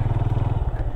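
A motorcycle engine idles up close with a rapid, regular low thumping pulse, loud and steady for about a second.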